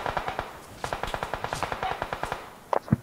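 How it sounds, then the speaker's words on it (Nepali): Rapid automatic gunfire in the PUBG battle game, bursts of sharp cracks in a steady rhythm, then a few louder close shots at the end, with no talk over it. "कान कानबाट गोली गइरहेको छ यार"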